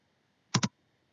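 A mouse button clicks twice in quick succession, crisp and close, against a near-silent background while working in After Effects.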